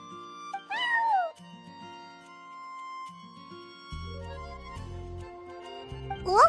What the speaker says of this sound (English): I'm sorry, that's my neighbor's cat.